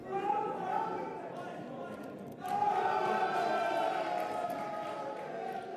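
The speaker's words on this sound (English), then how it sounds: "Lots of cheering in the room" Cheering and applause erupt in a poker tournament room as a high roller event is won, a distant roar that swells midway and holds steady beneath indistinct chatter.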